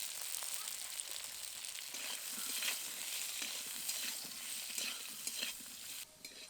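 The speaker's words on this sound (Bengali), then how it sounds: "লবণ হলুদ দেওয়ার পর কুলগুলোকে সামান্য নেড়ে নেব" Jujube berries with salt and turmeric stirred in a pan for chutney, a soft continuous sizzle with repeated quiet scrapes and clinks of a utensil, fairly faint and steady.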